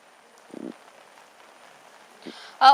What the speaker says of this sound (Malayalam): കോഴിക്കോടിന്റെ മലയോര മേഖലകളിൽ അതിശക്തമായ മഴ തന്നെയാണ് പെയ്തുകൊണ്ടിരിക്കുന്നത്.